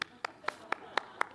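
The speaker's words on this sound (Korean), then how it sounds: "오, 박수." Six sharp, evenly spaced claps sound about a quarter second apart at a church service, fairly near and crisp against a quiet room.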